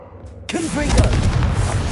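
A Confringo fire spell exploding in the video game Hogwarts Legacy: a quiet start, then a sudden loud blast with a short rising whoosh, followed by a sustained, heavy rumbling roar close up.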